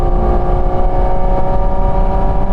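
A Porsche 911 engine, GT3 or GT4 RS, is floored in seventh gear, giving a loud, sustained, close drone with strong induction noise that holds at a steady, high pitch.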